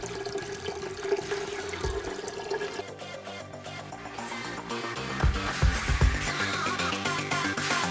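Cheap boxed sangria wine pours into a pot as a soft, steady trickle of liquid close by, with a brief swell and a few splashier gurgles toward the end.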